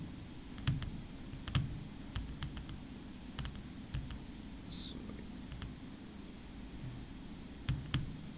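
Sparse clicks of a computer keyboard as a few keys are tapped to enter a number into a spreadsheet cell, with short isolated keystrokes and small clusters spread across a quiet background.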